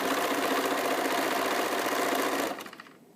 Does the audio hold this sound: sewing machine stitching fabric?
yes